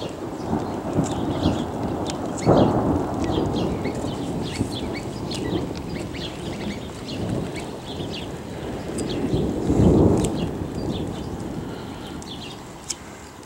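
Thunder rolls over a garden during rain, with two deep rumbles swelling up, one early and one later, beneath a constant patter of rain and scattered bird chirps.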